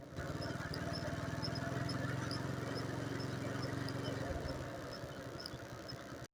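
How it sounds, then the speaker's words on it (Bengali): A steady mechanical rattle with a rapid, repeating scraping rhythm from a nearby motorbike's rear disc brake, continuous and fairly loud throughout. "পিছনের ডিস্কটা থেকে প্রচুর পরিমাণে একটা শব্দ আসে"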